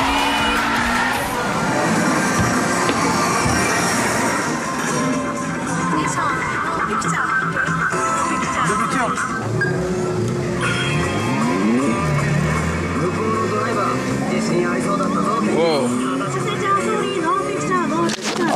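An Initial D arcade racing game runs at a SEGA Joypolis amusement park in Tokyo. Loud engine whine and repeated tire squeals sweep up and down over crowd noise, with voices mixed in throughout.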